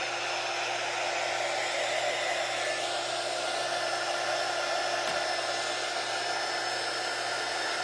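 A hair dryer runs steadily at close range, drying a Snoopy craft wreath, its broad whooshing roar holding constant with no talking.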